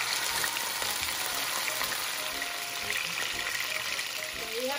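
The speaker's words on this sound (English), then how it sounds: "We have to fry the salmon." Salmon frying in oil in a pan, a steady dense sizzle and crackle running without a break, close and fairly loud, with faint background sound.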